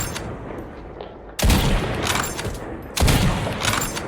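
Gunfire in the battle royale mode of the mobile shooter Call of Duty Mobile: two loud, close bursts of rapid fire, each breaking in sharply after a quieter stretch and rattling on with a dense, echoing crackle.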